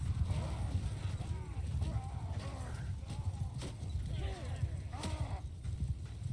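Horse hooves clip-clop steadily through a battle in Bannerlord's The Old Realms mod, a dense rhythmic patter over a constant low rumble, with voices talking over it.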